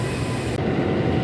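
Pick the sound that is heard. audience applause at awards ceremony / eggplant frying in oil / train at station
train at station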